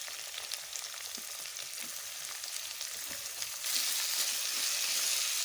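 Sliced peppers hit a hot pan of stir-fried beef cubes, and a steady close sizzle swells noticeably louder and brighter partway through, continuing as a dense frying hiss.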